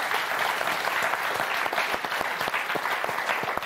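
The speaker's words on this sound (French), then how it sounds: "Applaudissements pour Eddie et Jason." A TV game show studio audience applauds, a dense steady clapping that stays loud and even throughout, with no voices over it.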